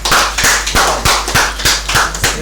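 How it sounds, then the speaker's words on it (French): A few hands clap in a slow, regular rhythm, about three claps per second, close and sharp, for a French-speaking audience. "ça s'applaudit s'il vous plaît"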